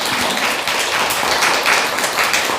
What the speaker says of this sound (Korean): 그분들에 의해서 한번 박수 한번 부탁드리고요